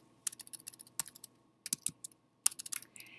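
Bursts of quick keyboard typing on a computer keyboard, close and fairly quiet, with short pauses between runs of keystrokes.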